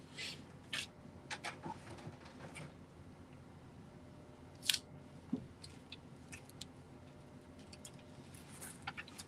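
Scissors trimming a decal for a toy, heard as faint, sparse snips and small clicks scattered over a quiet room.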